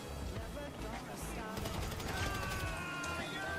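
Rapid bursts of GTA V gunfire crackle continuously through a busy, layered mix, with sharp repeated shots rattling throughout.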